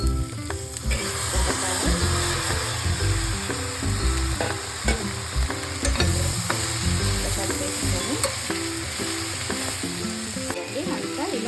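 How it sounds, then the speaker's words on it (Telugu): Ginger, garlic, turmeric, onion, green chili and curry leaves fry in a tablespoon of oil in an AMC cookware pan, sizzling loudly and steadily up close while a spoon stirs and scrapes in a busy, repeated rhythm. "1 టేబుల్ స్పూన్ ఆయిల్ వేసిన, దీంట్లో అల్లం ఎల్లిగడ్డ, పసుపు, ఉల్లిగడ్డ, పచ్చిమిర్చి వేసి కరివేపాకు వేసినాను"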